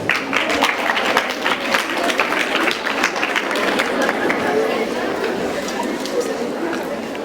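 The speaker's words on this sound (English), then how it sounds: "Give them a round of applause." An audience at a speech applauds in a sustained round of clapping for several seconds, with individual claps audible over a crowd murmur and some chatter mixed in.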